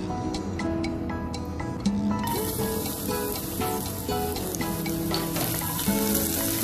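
Garlic sizzles steadily in a hot pan as the first step of a Filipino chicken tinola sautéed with tomatoes, a continuous close frying hiss with faint clinks of a utensil and no talking.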